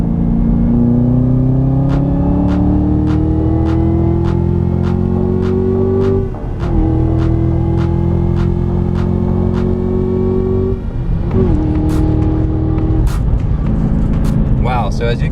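A 2018 Chevrolet Camaro ZL1 1LE accelerates hard up a mountain road, engine pitch climbing through the gears with brief breaks at each upshift, loud and close from inside the car.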